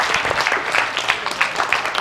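Steady applause from an audience at a church sermon, dense hand claps with a few louder individual claps filling the short stretch, no talk over it.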